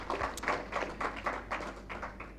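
Scattered hand clapping from an audience at the launch of a World Bank Uganda economic update, a few irregular claps heard fairly distant in a large room, brief and thin rather than full applause.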